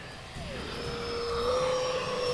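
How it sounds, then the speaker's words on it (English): A Smart RC F-16 Falcon model jet flies past, giving a steady whining roar that swells a little and holds fairly close, with no talking. "It just looks good in the air flying by, and it sounds good too."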